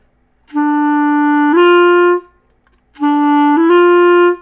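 A sustained clarinet tone slides to a higher note with a brief smeared blip at the change from unevenly moving fingers, played twice with a pause between.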